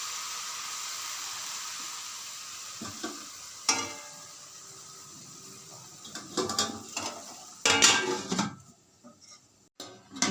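Chopped radish greens cooking under a lid on very low gas, a soft steady simmering hiss broken by a few clinks and scraping stirs of a pan, no talking.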